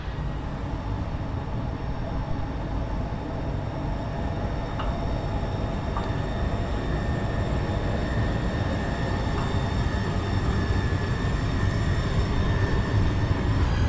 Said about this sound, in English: I think it's a freight train. It's really slow though.